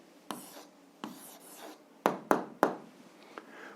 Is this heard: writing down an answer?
yes